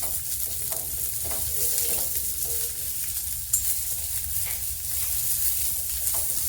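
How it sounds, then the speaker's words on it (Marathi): Vermicelli roasting in ghee crackles in a steady, close sizzle with scattered stirring clicks and one sharper scrape partway through, and no voices. "त्यात तूप टाकून मी मस्त भाजून घेणार आहे."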